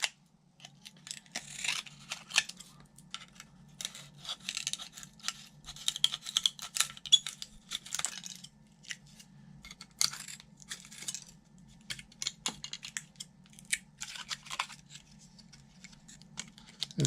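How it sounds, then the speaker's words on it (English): Repeated crisp snipping and crunching of scissors trimming stiff carbon material around an edge, close by, in irregular bursts over a steady low hum. "I just take some scissors and I'll cut some of this stuff off around the edge"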